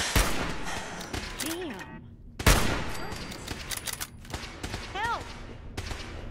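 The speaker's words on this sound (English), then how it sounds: "Oh my god, we got multiple laser turrets" Laser turrets in Fallout 4 fire rapid bursts of shots amid combat noise, with a few loud blasts and descending zaps, while a person briefly talks.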